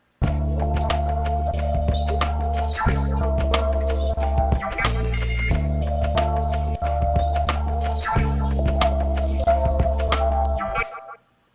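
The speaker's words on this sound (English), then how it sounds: "a simple break beat" A simple break beat drum loop programmed and played on an Akai MPC Touch, with steady kick and snare hits over sustained bass and tonal layers, looping loud and continuous for about ten seconds before cutting off abruptly.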